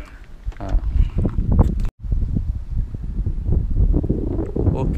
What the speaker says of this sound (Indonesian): Angin hari ni pun cantik lah kan, Uncle Nasri kan?